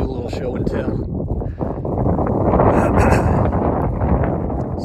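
Strong wind buffets the microphone on the exposed summit of Oregon's Matterhorn near Ice Lake, a steady loud roar of gusts that swells toward the middle and keeps up throughout.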